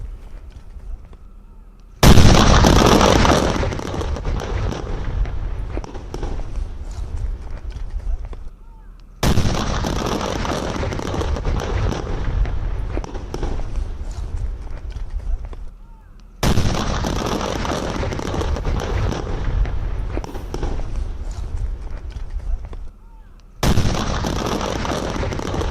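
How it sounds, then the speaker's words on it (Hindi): Seized firecrackers being destroyed go off in long, dense, roaring barrages of crackling explosions, several sustained bursts each lasting several seconds and separated by brief lulls, loud and close. "ये पटाखे जो हैं उन्हें नष्ट किया गया था।"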